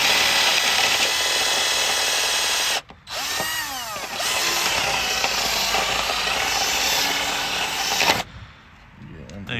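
Power drill bores out fixed yokes, whining steadily at high speed, with a brief stop and restart in the middle before it spins down near the end.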